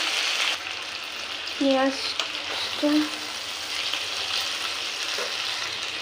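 Chicken frying in a pan for a curry, with two large tomatoes just added, gives a steady broadband sizzle throughout, with a couple of brief tonal squeaks or scrapes in the middle.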